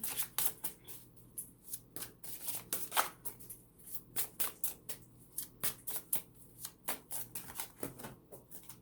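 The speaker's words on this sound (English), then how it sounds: "I'm going to pull another card from the tarot card deck" A tarot deck is shuffled by hand and a card is drawn, heard as quick, close riffles and flicks of card stock in an uneven rhythm, fairly quiet and without talk.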